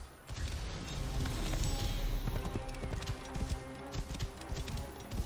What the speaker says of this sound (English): This must be Mered's horse